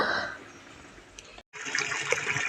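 Water rushing and gushing steadily into a garden plot, briefly cutting out for a moment before resuming with a brighter splashing flow.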